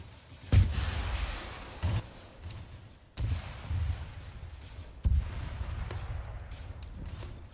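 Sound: rocket launcher fired in video game Arma 3

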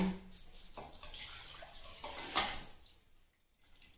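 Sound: water being poured into a container

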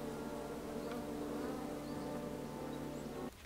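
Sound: bees buzzing in the video game King's Quest (2015)

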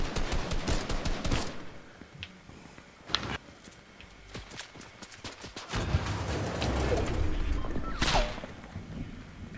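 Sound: gunfire in a video game

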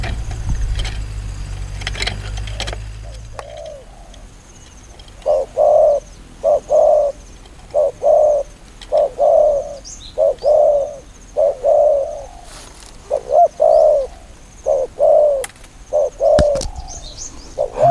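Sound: dove cooing

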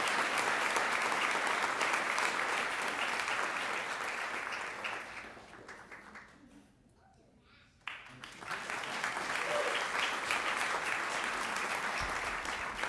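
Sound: audience applause

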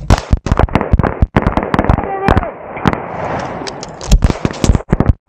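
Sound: gunshots at a shooting range drill

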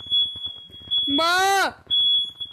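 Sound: home fire alarm going off

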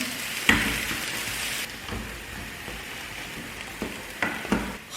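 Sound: spinach thawing and frying in a pan

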